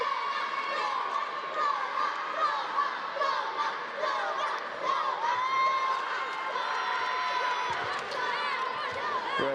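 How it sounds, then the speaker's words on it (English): Young French fans cheering a French competitor at a karate qualification tournament in Paris, with a dense wall of high-pitched children's shouts and cheers filling the arena continuously, loud and sustained with excited voices overlapping. "they're cheering their French competitor that's just come on"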